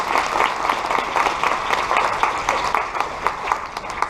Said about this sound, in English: So, a round of applause for you guys.